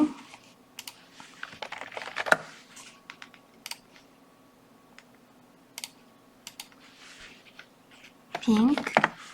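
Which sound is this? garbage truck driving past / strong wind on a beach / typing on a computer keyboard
typing on a computer keyboard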